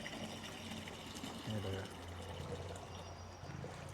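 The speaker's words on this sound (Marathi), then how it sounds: "स्कॅन केलं की ऑटोमॅटिक नाही का पैसे ट्रान्सफर झाले की लगेच इथं पाणी येते" Water pours from a scan-to-pay automatic water dispenser in a steady, splashing stream, with a person speaking briefly over the flow.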